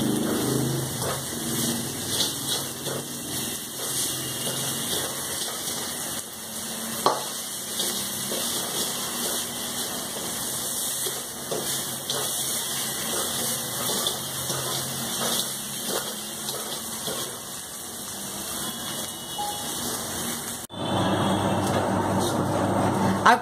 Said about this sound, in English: I kept crushing this green chili and garlic with salt